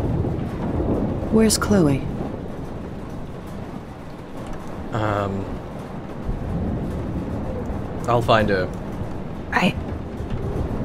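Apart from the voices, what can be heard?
thunderstorm in the video game Life is Strange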